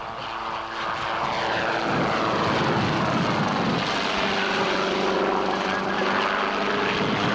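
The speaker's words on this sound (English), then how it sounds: "Hughes 300 is a very popular little helicopter." A Hughes 300 light helicopter flies at a 1984 air show in Masterton, New Zealand, its engine and rotor roar loud and continuous with a shifting pitch as it passes.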